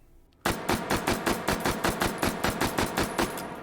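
H&K MP5K submachine gun fired in the video game H3VR, about a dozen loud, sharp shots in quick even succession after a brief quiet start, each crack ringing out alone.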